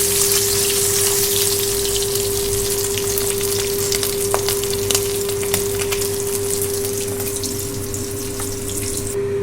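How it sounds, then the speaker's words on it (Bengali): Hilsa fish frying in hot oil in a pan gives a steady, close sizzle with scattered pops and crackles, running without pause and with no voices. "সমস্ত মাছ ভাজা হয়ে গেছে, এবার আমি তুলে দেবো।"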